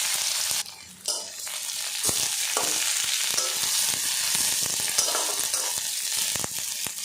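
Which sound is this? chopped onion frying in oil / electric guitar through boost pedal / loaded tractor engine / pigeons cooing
chopped onion frying in oil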